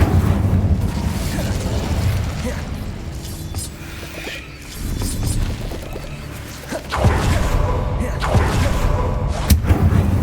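Incendio fire spell cast in Hogwarts Legacy, bursts of whooshing flame and thuds in a continuous noisy game soundscape, with louder flares near the middle and end.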